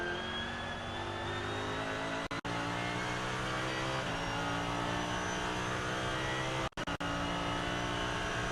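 Race car engine at the Nürburgring 24 Hours, a rainy endurance race, droning steadily at high revs from inside the car, loud and constant with a few abrupt cuts and gear changes, and no talking.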